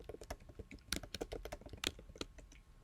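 Fast typing on a computer keyboard, a rapid, uneven run of close, crisp key clicks with no voices.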